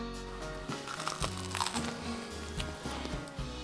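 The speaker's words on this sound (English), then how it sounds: "And now listen to the crunch as I take a bite." Crisp crunching and crackling of biting into a grilled cheese sandwich, repeated in quick bursts close to the ear.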